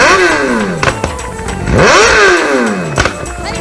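Motorcycle engine revving repeatedly, loud and close, with rising and falling pitch sweeps and brief clattering bursts between revs.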